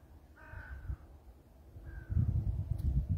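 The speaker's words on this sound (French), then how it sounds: "Il y a des oiseaux là." Crows caw outdoors on a winter morning at sunrise in the Morvan countryside, two harsh calls a second apart over a low rumble of wind or background noise.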